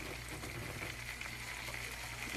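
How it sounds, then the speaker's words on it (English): Garlic sizzles steadily in hot olive oil in a pan, a continuous close crackling hiss with no pauses for about two seconds, no one speaking. "I'm going to let that garlic start browning"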